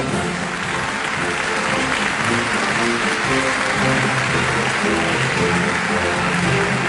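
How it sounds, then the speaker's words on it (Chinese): Warm, sustained applause from a theatre audience at a 2008 Suzhou Pingtan storytelling award gala, loud and continuous clapping filling the hall without a break. "陈伟春获得了现场观众最热情的掌声。"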